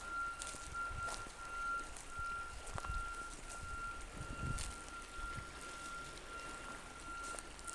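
Construction vehicles at a large roadworks project near a creek give off a steady train of high, evenly spaced reversing beeps, heard from some distance over outdoor ambience with occasional thumps and rustles.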